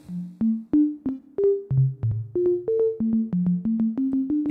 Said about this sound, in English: phase shift, which sounds like this.